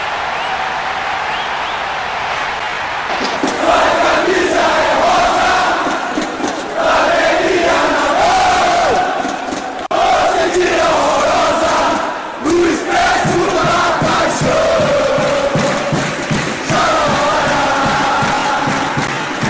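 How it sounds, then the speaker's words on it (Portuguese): Cruzeiro supporters fill a stadium in PES 2020 with a steady, loud crowd roar. Chanting and singing swell and dip in waves throughout, with occasional rises in cheering. "Essa torcida aí maravilhosa do Cruzeiro."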